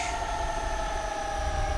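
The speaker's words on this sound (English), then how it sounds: "You hear those engines spooling down." Boeing 737-800 jet engines spooling down in the video game X-Plane 11, a steady whining tone with low rumble beneath, continuous and fairly loud, with no talk.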